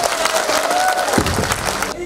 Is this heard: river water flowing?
no